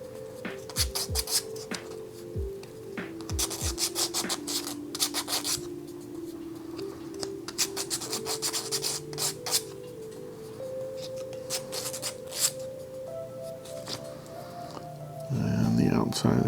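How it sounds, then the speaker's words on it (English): Sandpaper rasps against the outside of a wooden model piece in repeated short scratchy strokes, close and fairly loud, while a person speaks over it. "B6 needs to be waxed and sanded on the outside."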